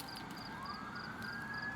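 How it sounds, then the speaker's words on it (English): Emergency vehicle sirens wail faintly in the distance, rising and falling, heading toward a building fire down the road, under a steady outdoor background hum. "So you're gonna see some, you hear sirens and stuff for a minute."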